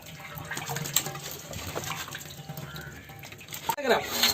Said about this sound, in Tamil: இப்போ நெய்யை ஒரு நூறு ஊற்றிக்கிறேன்